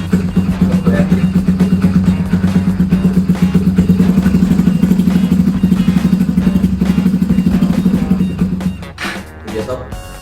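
A Kawasaki W175 2020 motorcycle with aftermarket exhaust idles loudly with a deep, throbbing exhaust burble, steady and close, then revs briefly before cutting off near the end.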